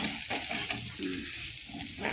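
A bhakur fish head fries crisply in a pan, giving a soft, continuous crackle and sizzle with a few faint stirring sounds and no speech.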